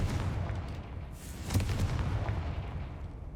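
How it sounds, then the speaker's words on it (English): A Confringo blast spell cast in Hogwarts Legacy on PS5 goes off as a loud, booming burst with a rumbling tail over dense game ambience, with a sharp peak partway through. "Confringo."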